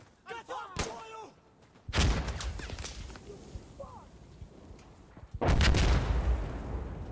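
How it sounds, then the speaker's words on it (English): Russian mortar fire in Insurgency: Sandstorm lands as two loud, booming blasts, each trailing into a long rumbling decay, separated by a few seconds of quieter ambience with brief sharp sounds before. "Russian mortar"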